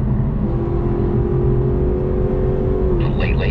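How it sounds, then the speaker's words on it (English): A Lexus passes at full throttle on a race track in pouring rain, its engine holding a loud steady drone before the pitch drops away as it goes by, with brief higher bursts at the end. "Full throttle pass."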